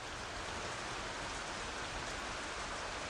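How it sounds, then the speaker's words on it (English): Grey rain falls steadily on a balcony in an Arknights game scene, a loud, even hiss of rainfall without breaks or voices. "The grayish rain falls on the balcony"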